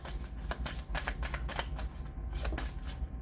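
Oracle cards shuffled and drawn from a manifestation deck, giving quick papery flicks and riffling taps in an uneven run, close and moderately quiet with no talking.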